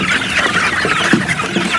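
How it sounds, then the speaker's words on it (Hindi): An Aseel rooster clucks close by in a short series of low, throaty calls over steady background noise. "ये जो हमारा सील मुर्गा ना, ये वाला सील मुर्गा"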